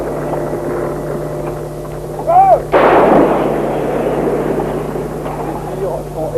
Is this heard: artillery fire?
yes